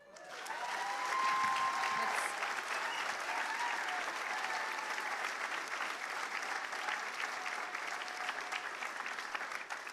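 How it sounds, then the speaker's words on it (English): Sustained applause fills a room at a city mayor's awards ceremony, dense and steady for the full stretch, rising quickly at the start and holding loud throughout with no talk over it. "the round of applause in the room"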